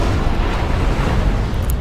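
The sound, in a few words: video game cannons and missile launchers firing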